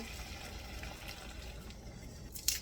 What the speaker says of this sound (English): I'm just going to put a little water in here